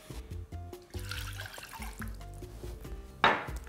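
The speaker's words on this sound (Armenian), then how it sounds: "լցնում ենք ջուր" Water is poured into a small pot to start a syrup, a brief splashing rush near the end over soft background music.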